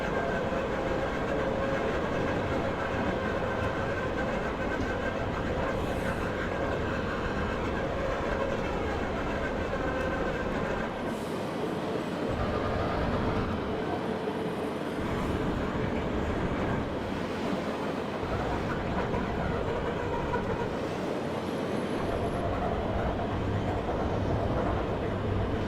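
A JR203 commuter train rolling along the rails in snow, a continuous loud rumble with faint rhythmic clatter and hiss, steady for the whole stretch with no voices.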